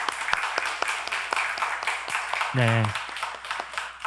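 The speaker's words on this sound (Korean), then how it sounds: "우리 박수로 환영하겠습니다" A church congregation claps to welcome a new member at a Sunday service: moderate, fairly steady applause with distinct individual claps and a brief spoken word over it.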